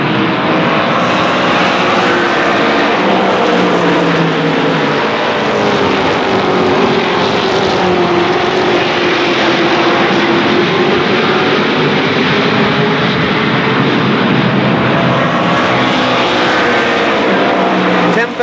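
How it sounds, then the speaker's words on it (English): A pack of race cars at Columbus Motor Speedway roars steadily as it builds toward the green flag, a loud, dense engine drone throughout with commentary voices blended under it. "Let's listen to the cars."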